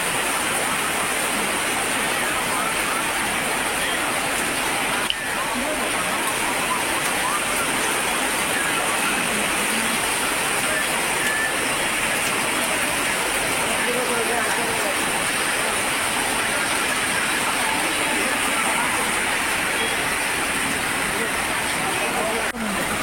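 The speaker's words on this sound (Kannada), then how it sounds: "ಸಿರುಗುಪ್ಪ ನಗರದಲ್ಲಿ ಭಾರೀ ಮಳೆ ಗಾಳಿ" Heavy rain with wind in Siruguppa town, Karnataka, a steady dense roar of downpour and gusts filling the whole stretch without a break.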